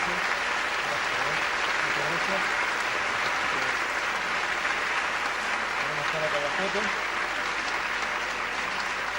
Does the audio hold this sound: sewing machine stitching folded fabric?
no